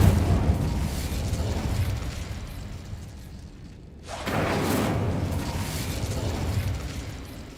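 An Incendio fire spell explodes in a video game, two loud booming bursts each followed by a rushing, crackling roar, with a short lull between them.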